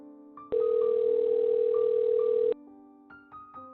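A telephone tone hums steadily for about two seconds, then cuts off abruptly, with quieter tonal beeps and hums before and after it.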